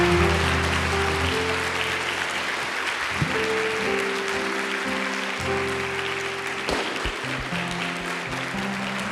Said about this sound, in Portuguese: E se você vai morar no céu, dê um forte aplauso ao Senhor.